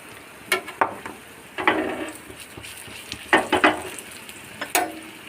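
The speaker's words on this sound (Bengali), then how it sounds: "এবার ভালো করে ভেজে নেব।" Soaked masoor dal frying in a pan over low flame, a soft steady sizzle broken by several bursts of stirring and scraping utensil strokes, close and clear with no voices.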